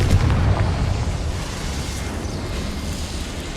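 The Confringo fire spell from the video game Hogwarts Legacy goes off as one muffled explosive boom right at the start, then fades into a low rumbling tail.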